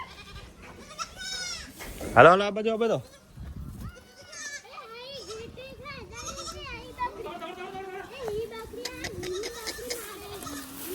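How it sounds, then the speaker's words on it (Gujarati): Goats returning from grazing bleat repeatedly, one loud close bleat standing out among others, while children's voices call and chatter over the herd. "બકરા આવી ગયા છે ચરીને"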